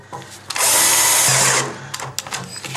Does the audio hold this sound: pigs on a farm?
no